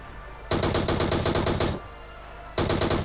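Rapid automatic gunfire in the video game PUBG Mobile, two loud sustained bursts of close shots separated by a brief pause, with no talk.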